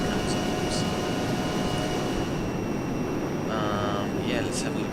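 Fuzzy, droning roar of an A-10C jet engine in the ArmA 3 game rising as the aircraft accelerates, a loud continuous broadband rumble held steady throughout with faint higher whines layered on top.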